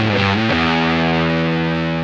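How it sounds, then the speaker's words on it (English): Electric guitar on its neck pickup at full volume through a very dirty fuzz pedal, a thick, saturated sustained chord ringing loud and steady after a brief strummed start, with no voices. "You can hear, obviously, a fuzz, very dirty."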